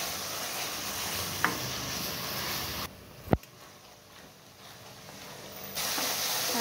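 Ground masala paste sautéed with fried onion in a pan: a steady close sizzle and hiss with a sharp clatter partway through, then a quieter stretch before the frying grows loud again.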